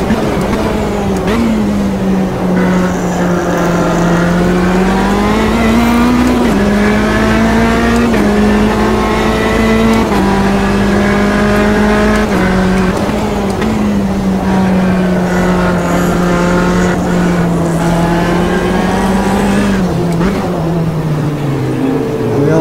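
A P1 prototype race car engine roars loud and steady in a mixed-class racing game at São Paulo, its pitch climbing and dropping through gear changes and corners for the whole stretch.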